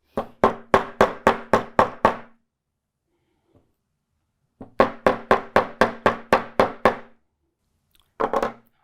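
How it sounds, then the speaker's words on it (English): A small hammer strikes a wire earring loop on a hard block in two rapid, even runs of about eight blows each, then a few final taps, sharp and close with silence between. "I'm just going to go in and hammer this a little bit so that I can work harden it"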